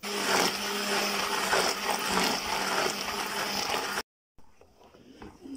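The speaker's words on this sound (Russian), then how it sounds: "Блендером все это измельчила." A blender purees cooked apples and pears for a jam-like puree, whirring loudly and steadily for about four seconds before cutting off abruptly, followed by faint kitchen clatter.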